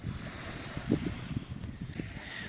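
Sea waves wash ashore on the Egyptian coast while steady wind buffets the microphone, a continuous mid-level rush with a slightly louder surge near the middle.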